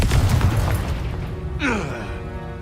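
In Hogwarts Legacy, a Confringo fire spell bursts with a sharp boom followed by a sweeping, crackling blast, heard over busy game sound.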